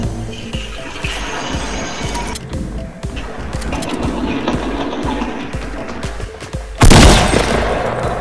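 Gunfire in the battle game Fortnite: a steady run of rapid shots under loud game noise throughout, ending in a sudden heavy blast near the close.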